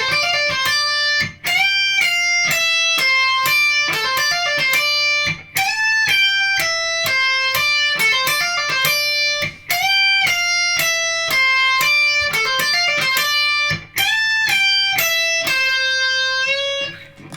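Electric guitar plays the classic intro riff, loud and upfront, with fast repeated melodic bends and runs across the full length, ending in a sustained ringing note.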